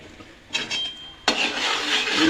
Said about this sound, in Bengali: এবার এর মধ্যে দিয়ে দেব এই আতপ চালের গুঁড়িটা এবার দিয়ে মেশাতে থাকবো